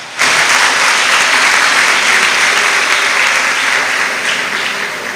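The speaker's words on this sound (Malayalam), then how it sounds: "so we will give him A big clap" Audience at a medical college induction ceremony for an MBBS batch applauds the union chairman with loud, sustained clapping that fills the hall and tapers slightly toward the end.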